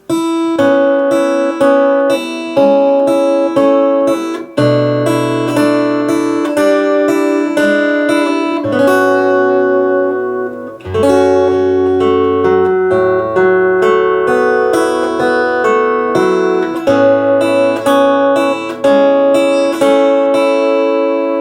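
A solo acoustic guitar plays a fingerstyle passage from a song, plucked notes and bass lines, close and clear, with a brief pause midway.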